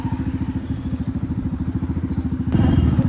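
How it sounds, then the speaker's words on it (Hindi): A motorcycle with an open silencer exhaust thumps in a fast, loud, regular put-put rhythm near the microphone, then swells louder as the throttle opens. "साइलेंसर तेज आवाज कर रहा है"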